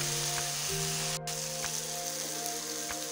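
Spiced masala with green peas sizzles steadily in an oil-filled pan, a continuous close frying hiss with faint crackles and a low steady hum beneath, no voices.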